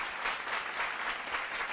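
An audience at a Tamil speaking-competition stage show claps together in a steady, dense round of applause, close and even throughout the short moment, with no voices.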